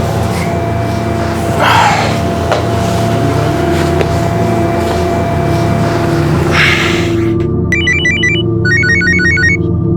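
A phone ringtone plays as a repeating electronic tone pattern in the last few seconds, following a stretch of indoor room noise from a Crime Patrol drama scene.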